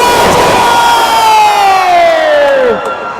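A wrestling event crowd at JCW Almageddon 3 roars and cheers loudly and steadily, with a rising shouted wail riding over it that falls away near the end.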